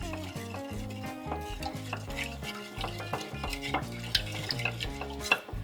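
Oil and salt being stirred in a bowl for bread dough, a busy scraping and clinking of utensil against the bowl, with music playing throughout.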